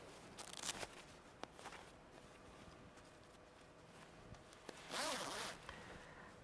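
A Carinthia Defence sleeping bag zip is drawn open in quick rasping pulls, a short burst early on and a louder, longer one near the end, with soft rustling and handling noise in between.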